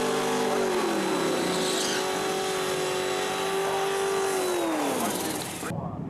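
Drag racing cars, a Comet and a GTR, in a Street Eliminator semi-final at the FIA European Finals, roar loudly with a long sustained engine howl that falls in pitch near the end before cutting off abruptly.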